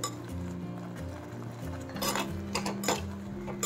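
Fried bitter gourd being mixed into a coconut curry in a pot, with utensil clinks and scraping against the metal, busier toward the end, set over a steady musical background.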